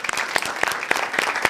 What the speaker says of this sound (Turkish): İmparatora kocaman bir alkış.